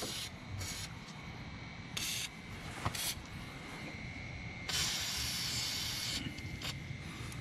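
Lucas Oil lubricant is sprayed onto the transmission and moving parts of a Poulan PXT12538 lawn tractor in several short, close hissing bursts, the last one longer, with quiet pauses between them.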